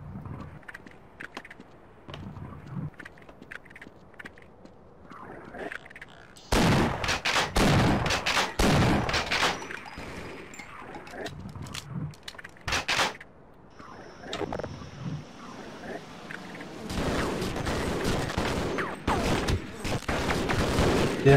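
Enemy gunfire aimed at the player in Half-Life: sharp bursts of shots and rapid volleys come in clusters, loud and close, separated by quieter stretches of game noise and a voice.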